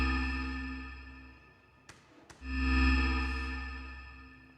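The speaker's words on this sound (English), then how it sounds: "But you can hear the LFOs speeding up, slowing down. And the LFO is also changing the pitch." A sustained synthesizer tone with a steady low drone and bright harmonics swells and fades as LFO modulation speeds up and slows down and bends the pitch, broken by two sharp transient clicks midway.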